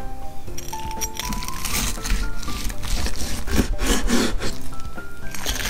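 A knife saws through a crispy fried chicken katsu cutlet in close, steady rasping strokes with a woody, scraping texture that runs without pause.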